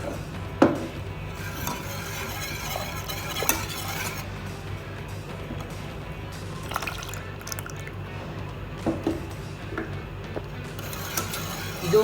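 Custard-mixed milk stirred with a spoon in a pan on the stove, a soft continuous swirl with occasional light clinks of metal against the pan, set under a steady low background hum.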